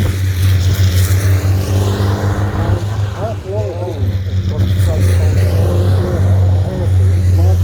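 Race cars at Pembrey circuit, a loud continuous engine roar that rises and falls as cars pass, heard under steady commentary.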